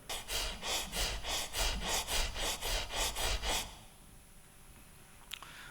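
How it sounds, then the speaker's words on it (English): Synthesized scraping of a PVC scraper over a vinyl tile: about ten loud, evenly paced rasping strokes, then the sound stops, leaving quiet room noise. "And this is how we synthesize it."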